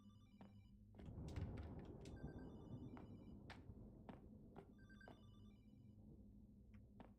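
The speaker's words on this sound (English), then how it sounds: "I can hear a phone." A telephone rings in a video game, sounding as a series of repeated bell-like trills that carry on through the clip over a steady low ambient hum, with no talking.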